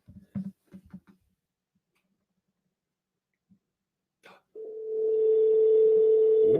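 A few short faint noises, then a steady electronic ringing tone on a phone line starts and holds at a constant pitch.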